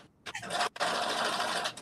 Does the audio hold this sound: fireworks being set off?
no